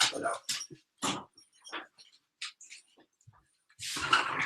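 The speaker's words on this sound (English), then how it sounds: "My dog is let out." A dog gives short whimpering, yelping bursts indoors, several separate brief calls spaced by silence, fairly close, with a louder noisy burst near the end.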